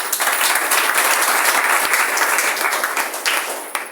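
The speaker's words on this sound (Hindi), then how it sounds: "जोरदार ताली।" Loud, dense audience applause fills the whole stretch at a steady level, a crowded room of people clapping continuously, greeting a morning gathering about a product.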